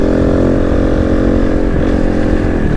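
A Kove Dakar rally motorcycle rides smoothly at low revs, giving a loud, steady, even engine drone close by with no sharp revving.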